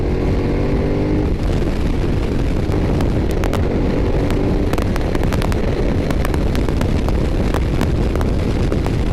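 A 2012 Ducati Diavel motorcycle being ridden with the throttle twisted gives a loud, steady engine roar buried in heavy wind rush, with scattered sharp crackles throughout.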